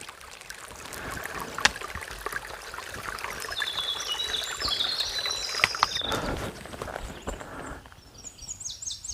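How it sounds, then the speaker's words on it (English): A tiny stream on the Appalachian Trail trickles softly and steadily, with faint scattered clicks and rustles nearby and bright bird chirps rising over the water partway through. "Tiny little stream."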